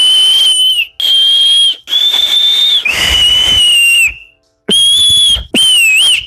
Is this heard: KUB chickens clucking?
no